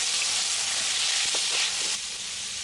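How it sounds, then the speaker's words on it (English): Garlic and Portuguese sausage frying in a pan, a steady, loud sizzling hiss close up that continues without break, with no voices over it. "And then we'll add in our Portuguese sausage and get that all fried up."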